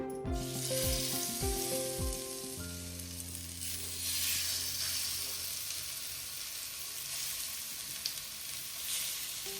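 Fish pieces go into hot oil in a pan for an Andhra fish fry and sizzle loudly and steadily. A brief musical tone sounds at the start, then the frying hiss carries on alone.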